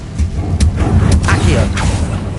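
A spell cast in Hogwarts Legacy, with crackling bursts of magical fire and thudding impacts repeating over a dense, loud game soundscape, with some voice mixed in.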